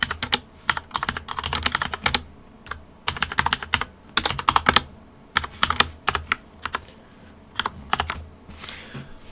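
Bursts of rapid typing on a computer keyboard while entering Python code, close and crisp, with short pauses between runs of keystrokes and no voices.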